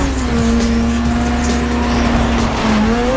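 Race car engine roaring steadily in the Need for Speed video game, with a continuous loud high-revving drone and a slight pitch shift near the end, with no talking.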